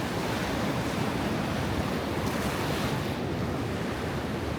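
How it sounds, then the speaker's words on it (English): Surf washing onto a small secluded beach at Gunung Payung in Bali, a dense, continuous roar of waves with wind buffeting the microphone. "Nice little beach area in the back there."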